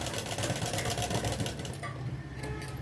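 An electric sewing machine runs steadily, stitching two pieces of blouse fabric together, with a continuous motor whir and rapid needle clatter that eases off near the end.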